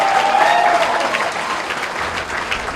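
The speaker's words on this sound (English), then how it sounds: "Huge round of applause once again" Dense, steady applause from a large audience at a glamorous Bollywood celebrity anniversary gala, loud and sustained across the whole moment with a faint tonal voice or music line briefly riding over it early on.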